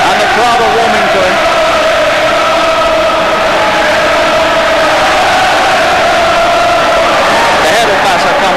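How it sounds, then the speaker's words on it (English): An arena crowd roars and cheers steadily during the Dave McAuley vs Fidel Bassa WBA flyweight title boxing bout, with a commentator talking continuously over the loud, sustained noise. "the crowd are warming to him"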